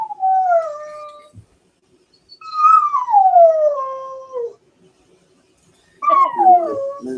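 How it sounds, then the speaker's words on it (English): A dog howls and whimpers in three long, drawn-out cries with falling pitch, fairly close and loud, separated by brief silences, with no talking over it. "The dog."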